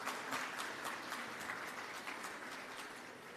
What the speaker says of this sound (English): let us start with a round of applause